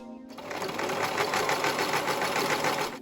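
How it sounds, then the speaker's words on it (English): A sewing machine runs steadily for about three seconds, stitching a seam along a denim jeans waistband, its motor hum and rapid needle chatter close and continuous without pause. "I'm lining up this line to the edge of the foot, and then I'm just going to sew following that line there."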